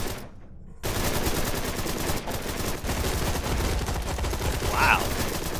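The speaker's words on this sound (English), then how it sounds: "Who could they be shooting?" Sustained gunfire in the video game Dark, a dense rattle of rapid shots running almost continuously under game sounds, with a brief vocal-like cry near the end.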